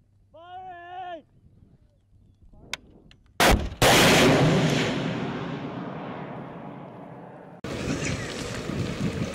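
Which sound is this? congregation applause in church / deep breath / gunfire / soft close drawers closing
gunfire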